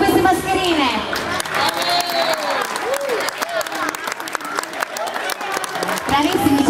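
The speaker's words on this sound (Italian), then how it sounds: "Un applauso a tutti queste mascherine!" Loud, sustained applause and cheering from a crowd of children and families at a kids' entertainment event, steady clapping throughout with a host speaking over it.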